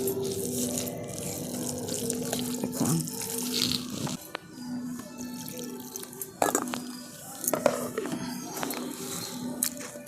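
Water trickles and splashes from a tap into a thick semolina batter for a tiffin recipe, a close, soft running stream broken by small drips and stirring sounds, with no talking.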